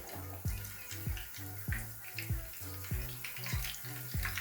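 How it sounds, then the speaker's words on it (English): Chicken chapli kababs frying in a pan, a bright continuous sizzle close by with regular soft thuds and clinks recurring about every half second, fairly quiet, with no voices. "Fry both the sides for about 4 minutes or until golden brown."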